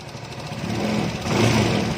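A Suzuki Nex scooter engine revs with a steady, buzzing mid-pitched drone that swells louder partway through and holds there, with no talk over it.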